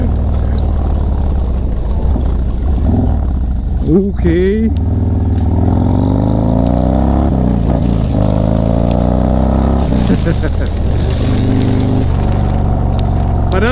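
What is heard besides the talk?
loud Harley-Davidson motorcycles riding in a group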